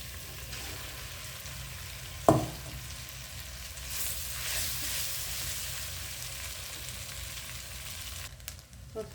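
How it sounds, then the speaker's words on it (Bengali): Cooked rice frying in a pan with browned onions for vegetable and egg fried rice, a steady soft sizzle with a sharp clink of a utensil early on and gentle stirring scrapes, no voices. "পেঁয়াজটা লাল হয়ে গেছে, এবার ভাতগুলো দিয়ে দিব"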